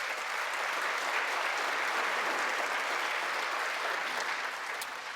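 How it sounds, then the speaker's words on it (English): Sustained applause from a large audience at a political speech, a dense, even wash of clapping that holds steady throughout before easing slightly at the end. "That's an applause line."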